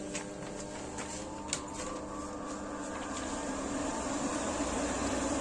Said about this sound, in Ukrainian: Вентилятор пішов працювати, флажок стоїть.